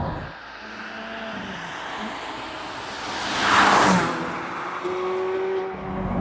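Ferrari 430 Scuderia V8 revving hard toward its 8,500 rpm limit, a loud sustained engine roar that swells to a peak near the middle and then holds steady, with no voices over it.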